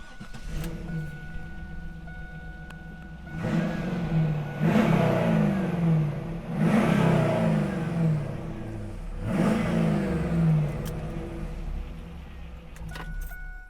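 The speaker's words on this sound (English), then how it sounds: "I'll fire it up for you, yeah. Yeah, so we can get a nice little exhaust note." A 2002 Pontiac Trans Am WS6 5.7-litre V8 engine turns over and revs three times, rising and falling in loud bursts with idling in between.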